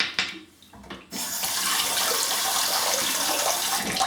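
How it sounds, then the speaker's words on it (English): Tap water gushes into a bathroom sink during a razor head shave, starting after a second of quiet handling sounds and then running as a loud, steady close hiss to the end. "Just get some water in the sink"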